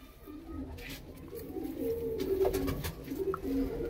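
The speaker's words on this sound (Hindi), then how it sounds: "और एक कबूतर है भाई" A Punjabi pigeon coos softly at close range, a few throaty rolling calls rising and falling against faint background rustle, with no talking.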